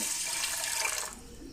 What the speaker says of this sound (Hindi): फिर हम इसमें डाल देंगे पानी,